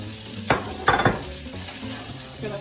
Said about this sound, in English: Gonna throw those in and mix them around and let these cook down until they are tender.